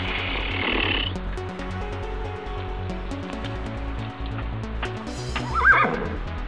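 A young black foal neighs close by, a loud whinny rising near the end over steady low rumbling and some shuffling movement.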